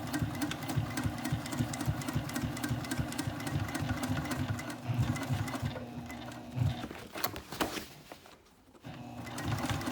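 A sewing machine stitches a backpack with a D-ring tab, running in a steady continuous whir with brief pauses and shifts in speed, close and fairly loud.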